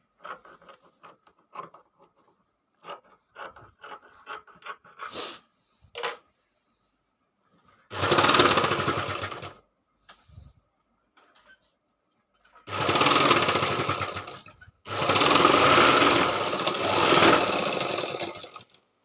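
Sewing machine stitching a fabric strip onto a quilt made from an old saree, with scattered clicks and light handling first, then three long bursts of steady, loud, close machine whirring.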